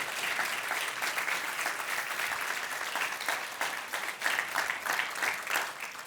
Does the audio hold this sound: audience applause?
yes